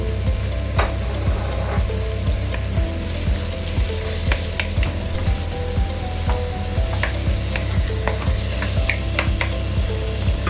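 Sautéed mung beans with squash and tomato are stirred in a pan, giving a continuous close sizzle with frequent sharp scrapes and taps of the utensil, and no voices.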